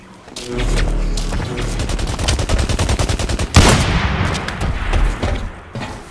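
Rapid gunfire in the shooter game Blacklight, loud bursts of automatic shots close up, with one heavier blast midway and echoing fire after it.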